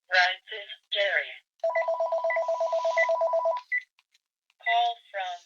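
A phone rings with an incoming call, a rapid pulsing electronic trill lasting about two seconds, close and clear, between bursts of talking.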